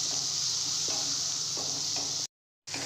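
Onion, turmeric and tomato sauté in a pan, a steady close sizzle with faint stirring clicks, cut by a brief gap of silence near the end.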